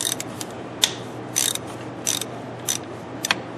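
A ratchet loosens the thermostat housing bolts on a 2005 Ford Explorer, giving short, irregular bursts of crisp mechanical clicking up close with brief pauses between them.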